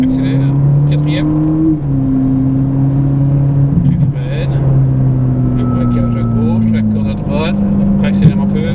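A Ferrari accelerating on a racetrack, its engine droning steadily and rising in pitch between gear changes, heard from inside the car while an instructor keeps talking over it.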